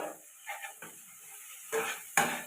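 Spices being stirred in a pan for fish-head moong dal made with katla fish head: soft scrapes and faint sizzling, with a sharper clatter of spoon against pan near the end, no talking.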